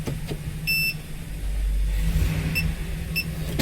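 A car with a faulty transmission idling in gear as the engine torques up, a low steady hum that swells into a deeper rumble, with short electronic beeps repeating over it.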